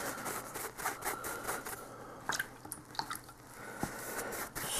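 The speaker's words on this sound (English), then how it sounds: "Wash out the brush properly." A paintbrush rinsed in a water pot while painting a Screamer of Tzeentch miniature, giving soft wet swishes, drips and clinks against the container, close and fairly quiet over a few seconds.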